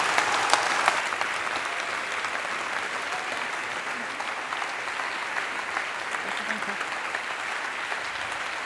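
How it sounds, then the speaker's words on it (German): Steady audience applause fills a hall as a climate activist, Luisa Neubauer, is welcomed to the stage, a dense even wash of clapping from many hands that holds at a constant level throughout. "Einen großen Applaus für Luisa Neubauer."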